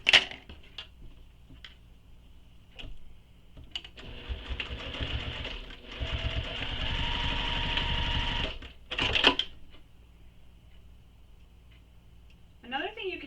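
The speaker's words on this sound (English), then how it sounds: "now we're going to stitch over this short raw edge where that elastic is right here on that end" Sewing machine stitching over the short raw edge of an elastic end on a commuter tote bag: a close, steady mechanical whir of stitching in the middle, with a person talking before and after.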